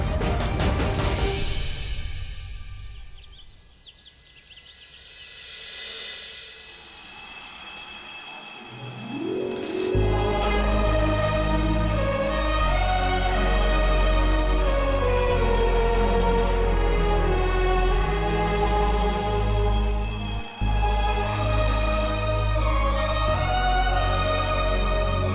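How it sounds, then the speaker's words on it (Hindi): An alarm clock rings loud and continuous in a dramatic TV scene, its shrill tone sitting over swelling background music that builds and carries on for most of the stretch. "अरे ये अलार्म क्लॉक यहाँ किसने रखा?"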